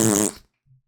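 A short, loud, buzzy fart sound effect blurts out close up, then cuts off, followed by a faint low trailing puff.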